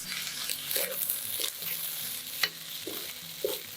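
Fried rice with a splash of fish sauce is sautéed in a pan, giving a soft, close sizzle broken by scraping stirs and a few sharp spatula knocks.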